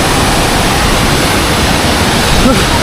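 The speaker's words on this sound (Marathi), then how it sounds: "धबधबा आहे." A loud, steady roar of a waterfall near Karjat and Bhivpuri fills the whole stretch, unbroken, with a faint voice surfacing briefly near the end.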